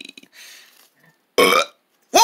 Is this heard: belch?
yes